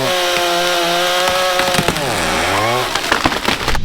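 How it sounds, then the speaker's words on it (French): A chainsaw runs loud and close as a leaning tree is cut, the engine holding a steady drone, then dipping and rising in pitch as it bogs into the wood before revving again. "il démarre la tronçonneuse"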